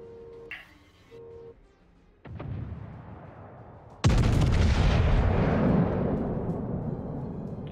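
Naval gun salvos in World of Warships: a thud near the start, then a heavy boom at about two seconds and a much louder blast at four seconds that rumbles and decays slowly, with no talking.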